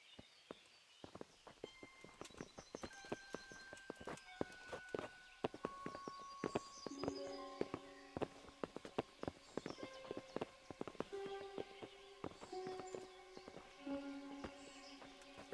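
Horses plod along in Kingdom Come Deliverance, a steady clip-clop of hooves under insects and musical tones, with faint voices now and then.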